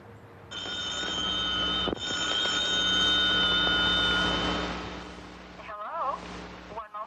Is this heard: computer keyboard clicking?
no